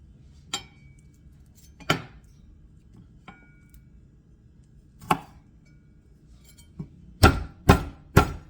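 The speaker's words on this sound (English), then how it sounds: "Now let's chop this first." Knife chopping food on a cutting board while making a turkey casserole, a few scattered single thuds followed by three louder, closer strikes near the end, with no talk.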